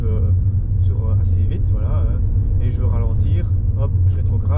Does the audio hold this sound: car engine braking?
yes